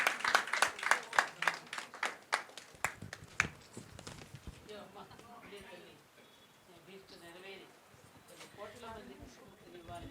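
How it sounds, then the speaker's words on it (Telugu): Audience applause at a foundation opening ceremony: a burst of dense clapping for about three seconds that quickly thins out and fades, giving way to voices talking in the hall. "అందరూ గట్టిగా చప్పట్లు కొట్టవలసిందిగా కోరుతున్నామండి."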